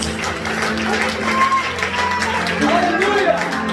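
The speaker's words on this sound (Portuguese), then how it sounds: "Aplauda o Senhor Jesus" Church congregation applauding during a worship service, sustained clapping with voices and singing-like tones running underneath.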